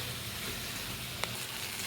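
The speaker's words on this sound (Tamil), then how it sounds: "நான் எறா க்ளீன் பண்ணி வச்சுருக்கேன்," Cleaned prawns fry in a pan, a soft even sizzle heard up close and fairly quietly, with one brief sharp clink of a utensil partway through and no voices.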